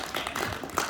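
An audience at a gymnastics talk claps briefly, a quick scatter of light hand claps, fairly faint and close.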